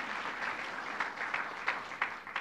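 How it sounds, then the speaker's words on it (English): Audience applause at a governor's announcement held at Yeshiva University, a steady wash of clapping from a crowd with a few sharper bursts standing out, lasting a couple of seconds without speech. "let's give him a round of applause in absentia for doing what they're doing"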